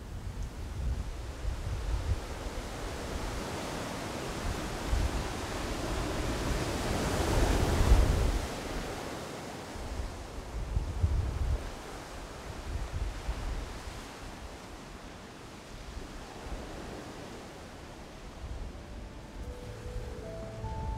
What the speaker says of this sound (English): of the coast and the Pacific Ocean.